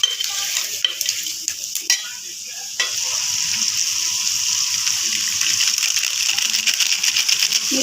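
Tomatoes and mango sizzle and fry in a pan while being stirred, with scraping and clinking strokes over a steady loud frying hiss.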